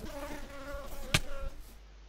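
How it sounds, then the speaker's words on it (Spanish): Bees buzzing in a video game, a close insect drone with a wavering pitch that carries steadily, cut briefly by a sharp loud click partway through. "Hacen ruido abeja, así que deben de ser abejas"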